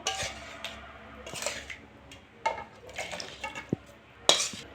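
Chana masala being poured and scraped out of a metal cooking pot, with several short clinks and scrapes of utensil on metal spread through the quiet stretch, fairly close and soft.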